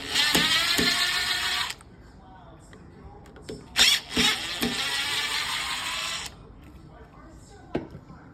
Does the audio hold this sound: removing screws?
yes